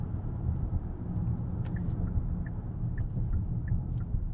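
2022 Hyundai Palisade rolling over a rough road section, a steady low cabin rumble of tyres and suspension with a few faint light knocks and ticks scattered through it.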